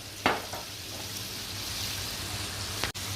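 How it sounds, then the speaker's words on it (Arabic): Chicken pieces fry in oil with a steady, dense sizzle and crackle close by, opened and closed by brief clatters as pieces go into the pan, with no voices. "هنبتدي نقلي قطع الفراخ اللي احنا عملناها واحدة واحدة كده مع بعض"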